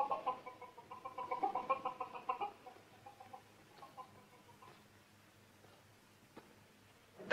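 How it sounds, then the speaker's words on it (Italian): A hen clucks in a quick series of close, rhythmic calls, then falls quiet, leaving a low, faint background with a few scattered small sounds; no talking. "una gallina!"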